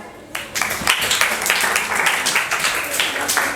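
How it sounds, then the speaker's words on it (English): An audience claps at a weekly student debate, a dense burst of applause that starts after a short pause and carries on steadily, fairly loud, to the end. "Clap for her."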